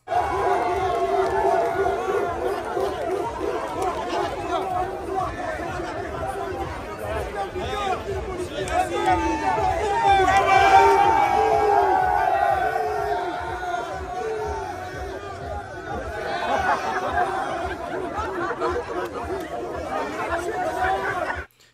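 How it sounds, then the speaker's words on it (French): Crowd jeering at police during a violent brawl at the Foire du Trône funfair, a loud restless babble of many voices with shouts and swells rising and falling over about twenty seconds. "rixe violente à la foire du trône, la police huée par la foule lors d'une intervention dite musclée"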